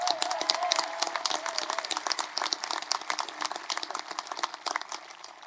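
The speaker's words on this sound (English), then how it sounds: "One more round of applause for our top scholars" A crowd at a Vista Del Lago High School Class of 2021 graduation ceremony claps steadily for the top scholars. The applause is dense and sustained, with a voice faintly audible beneath it early on.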